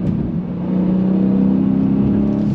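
A Dodge Challenger Scat Pack V8 revs during a heel-toe downshift, a loud, close, sustained engine drone that swells slightly and holds steady without any voices.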